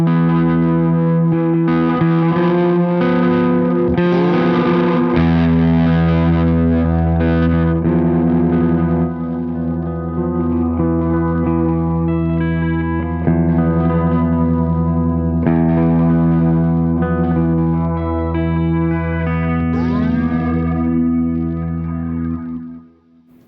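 Electric guitar runs through a Duplo effects pedal, giving a loud, sustained distorted tone with chorus-like modulation and echo as chords ring and shift, with no talking.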